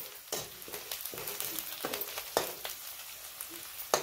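Onion, green chili and cumin for kadhi sizzle in hot oil, with sharp spatula scrapes and stirring strokes repeating close by over a continuous frying hiss, and no voices.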